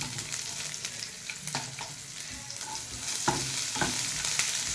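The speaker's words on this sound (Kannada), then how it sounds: "ಇದು ಸ್ವಲ್ಪ ಫ್ರೈ ಮಾಡಿ." Small onion sizzles and fries in a pan with a constant hiss, broken by stirring scrapes and clinks, close and steady, growing a little louder near the end, no talking.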